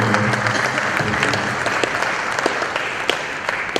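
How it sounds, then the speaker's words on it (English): A hall audience at a university anniversary panel discussion gives a round of applause, a brisk, dense clapping that stays steady and fairly close for a few seconds. "A big round of applause for young people."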